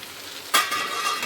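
Food frying in a pan on a home stove bursts into a loud sizzle about halfway through. It then settles into a steady, close hiss with no talk.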